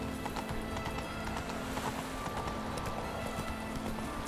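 Roach, Geralt's horse in The Witcher 3, trots along with steady, continuous clip-clop hoofbeats at a moderate distance over a constant game ambience, with no voices.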